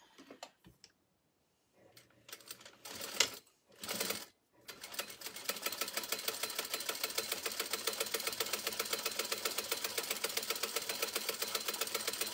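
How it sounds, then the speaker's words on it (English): Sewing machine basting down the raw edge of a fabric drawstring backpack, a few short starts and stops followed by a long, steady run of rapid needle clatter close by, no talking. "Just going to sew down this raw edge here. Again, we're just basting this together."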